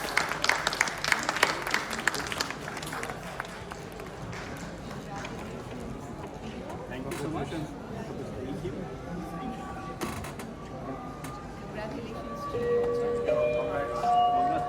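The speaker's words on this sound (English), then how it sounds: "Let's give a big round of applause." An audience at a book launch applauds, clapping strongest at the start and then thinning into scattered claps and room noise, with some bright tones near the end.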